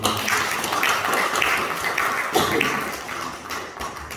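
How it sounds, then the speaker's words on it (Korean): A church congregation claps together during a Sunday worship service, a loud, dense burst of many hands close by that continues steadily with no voices over it. "하나님께 오늘은 영광의 박수 한번."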